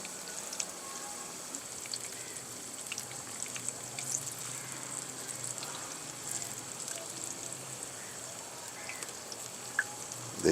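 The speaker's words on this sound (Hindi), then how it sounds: "इनके ऊपर भी ऐसे ऑयल डालेंगे ताकि ये ऊपर से भी फ्राई हो जाए" Peshawari chapli kababs fry in hot oil, a steady close crackling sizzle with occasional pops as oil is spooned over the top.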